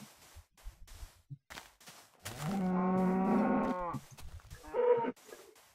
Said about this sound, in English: Sneaky cow.